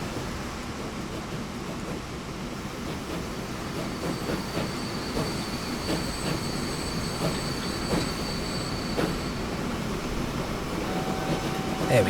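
Small train running in the Transport Fever 2 game on a UK sawmill line, a continuous rail rumble with clickety-clack beats and squealing wheels, steady and moderately loud.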